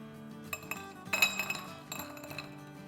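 Pieces of sesame brittle are dished out onto a plate, making a series of light clinks and taps of hard pieces against the dish, close and fairly quiet, with no talking.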